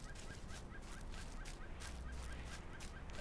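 A protected bird is struck in Lord of the Rings Online and lets out a rapid string of faint, gobbling squawks, pulsing evenly over a dense background with no one talking.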